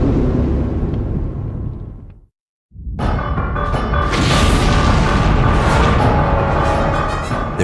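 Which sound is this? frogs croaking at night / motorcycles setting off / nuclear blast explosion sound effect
nuclear blast explosion sound effect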